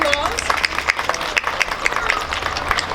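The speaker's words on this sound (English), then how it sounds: "Let's give him a round of applause." Applause from a crowd at a farmers market opening day in Glasgow Park: brief, scattered clapping that rises and stays steady over about three seconds, with voices chattering underneath.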